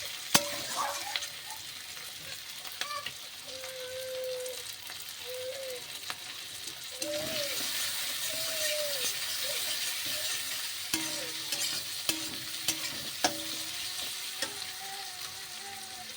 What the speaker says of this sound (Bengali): টমেটো দিয়ে দিয়েছি, দিয়ে একটু নাড়াচাড়া করে নেবো।